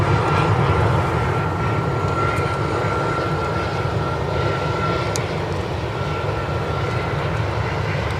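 A United Airlines Airbus A319 jet at Minneapolis–St. Paul airport, heard as a continuous loud engine roar with a faint steady whine above it, alone with no talk.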